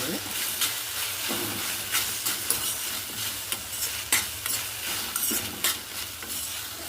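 Gongura (pundi) leaves and curry leaves stir-fried in a pan for chutney, giving a steady close sizzle broken by repeated scraping spoon strokes at an irregular rhythm.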